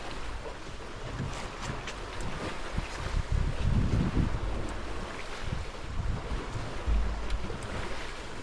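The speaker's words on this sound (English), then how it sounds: "Let's just wait for these last, some swells coming in." Ocean swells roll in with waves washing and wind rumbling against the microphone, a constant noisy surge with a few louder low swells and no voices.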